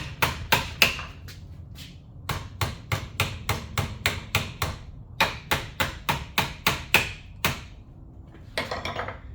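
A small ball peen hammer strikes a 3D-printed Bravura trumpet in quick bursts of sharp, close, loud knocks, with a brief pause between runs and a scrape near the end. No one speaks.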